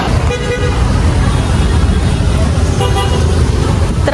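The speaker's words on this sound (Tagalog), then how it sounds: "Traffic." Loud, busy city street traffic in Manila, with a steady roar of cars and buses and a few short horn toots close by, while people talk over it.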